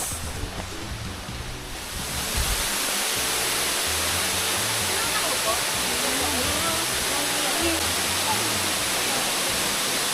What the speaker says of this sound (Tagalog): nakarating na kami ng Sampaloc Falls.